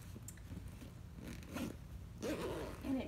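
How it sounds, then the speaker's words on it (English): A bag's double zipper rasps open in short scraping bursts, close and fairly quiet, with a longer pull near the end. "There's a double zipper."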